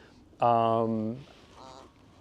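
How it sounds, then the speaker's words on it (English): A harsh cawing call from a crow outdoors, one loud drawn-out caw up close followed by a fainter, shorter second call. "This crow's annoying me."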